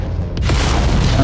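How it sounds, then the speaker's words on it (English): Missile explosions in Mechwarrior 5, a loud, close, deep boom that hits sharply and then rolls on as a sustained low rumble. "Keep harassing him with missiles while he closes."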